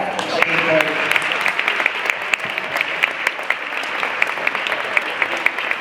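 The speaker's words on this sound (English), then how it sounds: "Let's give them a big round of applause." Audience applause for a graduating class at a school assembly, a steady sustained wash of many hands clapping, loud and close throughout.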